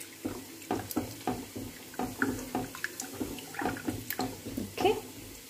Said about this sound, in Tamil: ஸோ 1 கப் அரிசிக்கு 2 கப் தண்ணி சேர்த்திட்டு இது நல்லா வந்து கொதிக்க விடுங்க